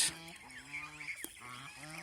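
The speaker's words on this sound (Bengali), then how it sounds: "এইগুলি হলো বাচ্চা হাঁস" Young domestic geese, goslings of a large breed kept at a farm, give a steady stream of thin, high peeping calls that overlap and stack up close by, with one sharper squeak standing out midway.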